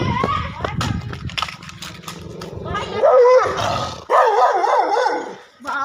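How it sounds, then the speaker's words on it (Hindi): A hunting dog barks near a rural home, loud and close, with a run of sharp barks followed by longer rough, growling barks. A person talks at the same time. "ये डॉगी साहब पता नहीं कब से भौंक रहा है"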